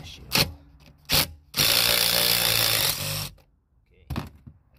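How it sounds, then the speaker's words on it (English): A power drill spins a rear seat bolt out of a Nissan Maxima, running in a steady whirring burst of roughly two seconds between short clunks and tool handling, close up. "Now I'm gonna take the drill."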